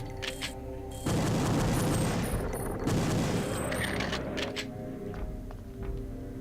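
Weapon fire from Reaper enemies in the video game Perfect Dark, heard as a dense, continuous barrage of loud gunfire and booms that swells after the first second and carries on steadily, with no talking.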